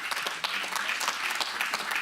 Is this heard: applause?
yes